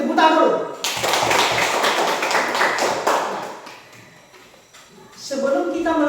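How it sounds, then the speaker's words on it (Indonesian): Children in a classroom clapping their hands, a burst of brisk, fairly loud clapping that fades out, with a voice talking before and after. "kita tepuk tangan dulu."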